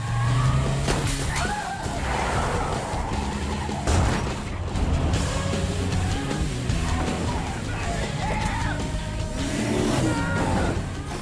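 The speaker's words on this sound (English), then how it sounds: "They jumped into the vehicle and sped away," A car speeds away during a chase with loud continuous engine roar, squealing, skidding tires and sharp impacts throughout, dense and close.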